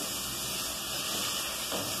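Tomato, zucchini, carrot and garlic frying in a pan, a steady close sizzling hiss that holds evenly throughout with no one talking.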